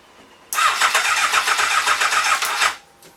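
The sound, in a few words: engine cranking and starting on weak battery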